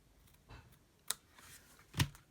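Scissors trimming excess paper off a handmade card, a few faint, quick snips and light paper rustles spaced apart in a quiet room, the last cut slightly louder.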